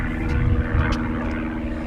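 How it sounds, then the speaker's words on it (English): An airplane passes overhead outdoors beside a concrete area with a bench, a steady, loud engine rumble filling the background with little variation. "Nice airplane going over."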